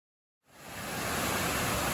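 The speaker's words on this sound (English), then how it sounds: "Check out these falls." Roberto Barrio waterfalls pour in a steady, loud broadband rush that swells in after a brief silence and holds constant, with no voices.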